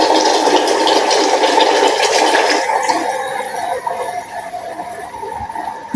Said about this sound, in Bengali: এখন আমি এখানে 1 মগ গরম পানি দিয়ে দিব।